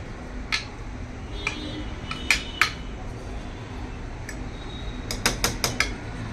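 Metal cookware clinks and taps as a lid is fitted onto a cooking pot of an Andhra special dish, sharp clanks spread out at first and then a quick cluster of close knocks near the end, with no talk.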